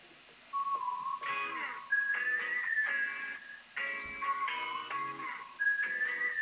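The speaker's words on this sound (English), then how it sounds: "I love the whistle sound." Melodic whistling hook from a song, bright sliding whistled phrases over a rhythmic pop backing with synth chords, steady and prominent throughout.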